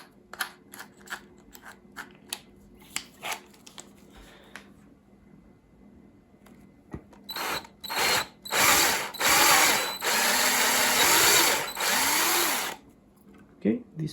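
A power drill enlarges the screw holes of a headless electric guitar body's control cavity for threaded inserts, running in several loud, sustained bursts of a few seconds each, with quieter handling and brief talk before.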